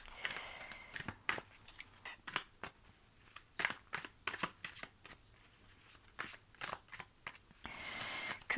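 Tarot cards shuffled close up in quick, irregular riffling bursts with soft flicks and taps between them, fairly quiet and unaccompanied by speech.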